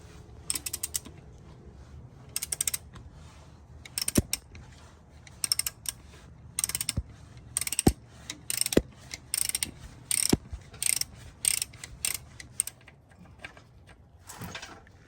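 Wrench working the oil drain bolt on a 2000 Volkswagen Golf MK4 2.0L, quick bursts of ratcheting clicks with pauses and occasional metallic knocks, close and fairly quiet, no talking.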